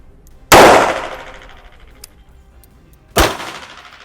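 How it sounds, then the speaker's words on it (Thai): Two sharp, loud gunshots from a real .38 calibre live round fired at a target, the first near the start and the second about two and a half seconds later, each with a ringing decay. "อันนี้จะเป็น เสียงของกระสุนปืนจริงๆนะครับของจุด38นะครับนัดนนี้จะเป็นกระสุนจริงนะ"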